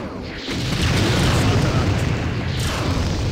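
Rumbling explosions of detonating robot units in the strategy game Empire Earth, a loud sustained blast after a brief lull, filling the mix for several seconds.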